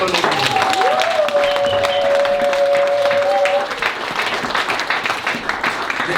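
A church congregation at a bishop's gathering in Switzerland claps to welcome arriving friends. The dense, loud applause runs throughout, with a long sustained high tone held over it for the first few seconds.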